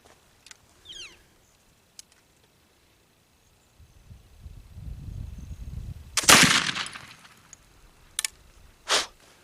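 A shot of homemade black powder fired through a chronograph after a delayed hang fire: a low rumbling fizz builds, then a sharp loud report, followed by a couple of fainter cracks and a final short burst outdoors.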